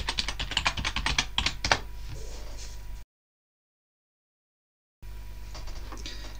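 Fingers typing a password on a computer keyboard at a Linux terminal, a quick run of close, crisp key clicks tapering off, then a stretch of silence before faint room noise returns.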